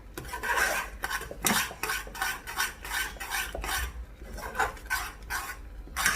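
A spoon stirs oat and mango baby food in a pan, giving repeated scraping and rasping strokes against the metal in a steady, close rhythm.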